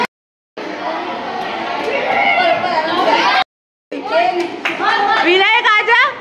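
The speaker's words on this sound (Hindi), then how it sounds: "ताली बजाओ।" Children and adults clap together at a school sports day, a dense, continuous burst of clapping with crowd chatter. After a short gap, a voice and other voices speak over the fading noise.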